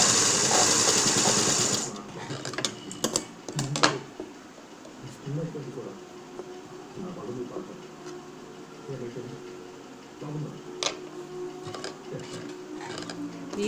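Sewing machine stitching the front part of a blouse, bursts of rapid mechanical needle clatter alternating with pauses and someone talking over it.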